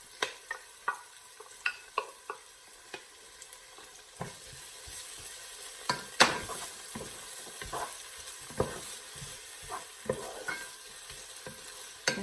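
Onion and garlic fry in a pan for chicken afritada, a steady close sizzle broken by repeated clacks and scrapes of a utensil stirring, alone without talk.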